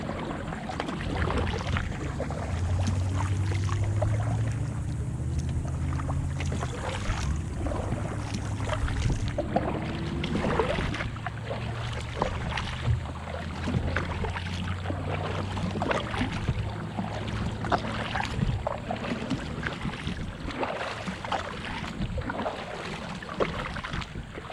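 A 12-foot homemade foam-and-fabric kayak is paddled on a park lake, with steady watery strokes and splashes against constant wind buffeting the microphone. The sound is close and continuous, and no one speaks.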